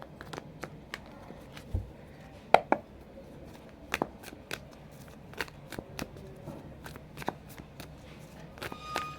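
A tarot card deck being shuffled, giving a run of soft, scattered card riffles and snaps across the whole stretch, fairly quiet and close, with no talk over it.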